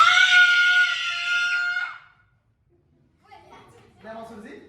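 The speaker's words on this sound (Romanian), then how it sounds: "Țipăm tare, da?" A group of children at a children's museum scream loudly together for about two seconds. After a brief silence, voices talk and laugh.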